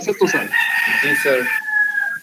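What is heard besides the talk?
rooster crowing during an online class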